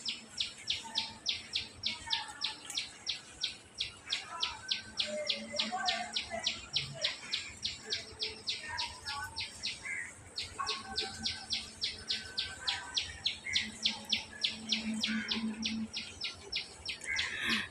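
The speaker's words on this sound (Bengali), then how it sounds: "পাখি ডাকতেছে।" Outdoors in a Bangladeshi village, a fast run of high, thin chirps repeats steadily throughout, with a few lower calls scattered in the background.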